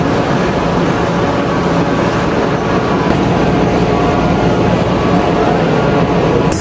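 A train arriving at Nagano, Japan, rumbles loudly and continuously from inside the carriage, a dense, steady roar of wheels and running noise with no clear pauses.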